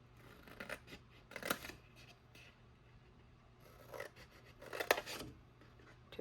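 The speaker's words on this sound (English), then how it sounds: "So I'm taking out my corners and my darts while I'm holding this paper vertically." Scissors snip corners out of a sheet of paper held upright while assembling a card kit, giving several quiet crisp cuts in two clusters with soft rustling of paper between them.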